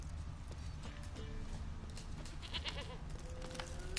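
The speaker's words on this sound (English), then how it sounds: "Here, goat." A goat in The Witcher 3: Wild Hunt bleats a few times, faint and somewhat distant, over quiet outdoor game ambience with soft hoof-like steps.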